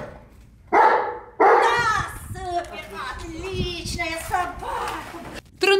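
Search and rescue dogs in training give sharp barks to signal a find: two loud close barks stand out, then a voice talks over faint yips and outdoor background before another bark at the end.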